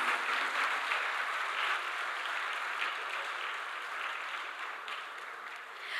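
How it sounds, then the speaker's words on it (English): A large audience at the inaugural session of a national cost accountants' convention applauds after a splendid musical performance, a dense, sustained roar of clapping that holds steady for several seconds and fades slightly toward the end. "With thunderous applause for the splendid performance."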